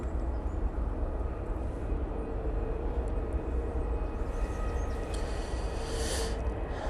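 An EasyJet airliner bound for Paphos taxis onto runway 23 left at Manchester Airport, a steady low engine rumble and broadband roar at moderate distance, continuous and unbroken.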